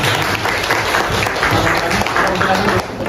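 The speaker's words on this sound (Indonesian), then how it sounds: "Tepuk tangan untuk Mbak Azalia." Classroom applause for a student: dense, continuous clapping from a group of students filling the whole stretch at steady loudness, close by, with voices faintly mixed in.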